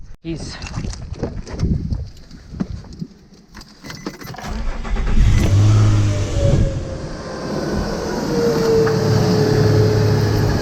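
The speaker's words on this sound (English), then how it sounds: "let's start the car and see what happens here" Keys jangle before a 2005-2010 Nissan car engine cranks and catches, settling into a steady, fairly loud idle, with someone talking over the start.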